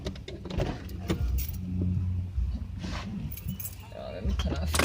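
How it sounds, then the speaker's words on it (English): Car keys jangling and clinking inside a car, with short metallic rattles over engine rumble and cabin noise while people talk. "let me turn off the car before you lock up the key in here"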